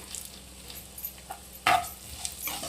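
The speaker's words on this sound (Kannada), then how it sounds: "1-2 ಇಡಿ ಧನಿಯಾ, ಹುರ್ಕೋಬೇಕು ಧನಿಯಾ ಹಿಂಗೆ" Whole coriander seeds roasting in a dry pan for a wedding-style vegetable sambar, heard as a soft close sizzle with light stirring scrapes and one sharper clink of a spoon against the pan.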